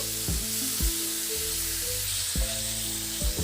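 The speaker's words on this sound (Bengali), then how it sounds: "সেই টমেটোটা দিয়ে দেব ও টমেটোটা ভালো করে নাড়াচাড়া করে প্রথমে মিশিয়ে নেব" Chopped tomatoes frying in a hot tempering for tomato achar, a loud continuous sizzle broken by several distinct stirring scrapes of a spoon against the pan, close and without voices.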